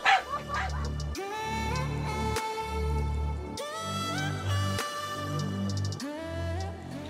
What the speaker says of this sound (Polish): Jeszcze pieski, zatykamy uszy.